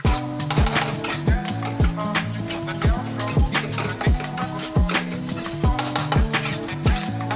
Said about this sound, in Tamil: கொஞ்சம் ஸ்பீடில் வச்சு முட்டையை கொஞ்சம் கிண்டுங்க.